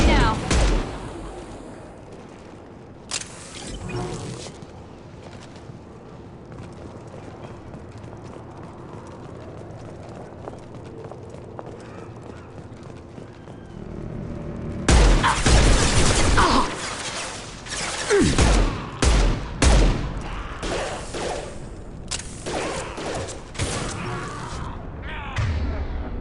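Gunfire in a Mass Effect 2 combat scene, scattered shots early, then loud rapid bursts of automatic fire and impacts after a quieter stretch, with voices heard briefly.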